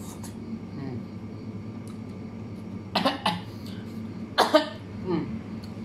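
Two bursts of harsh coughing stand out while eating noodles, each a quick cluster of hacking fits with a strained, choking edge, over a low steady background hum.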